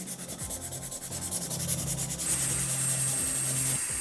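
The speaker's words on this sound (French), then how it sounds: "Je finalise en passant mon buffer comme toujours, en commençant par le gros grain et ensuite le grain fin" Rapid rhythmic rubbing of a nail buffer, coarse grit then fine grit, sanding a nail close up, a steady scratchy back-and-forth that turns into a continuous hiss.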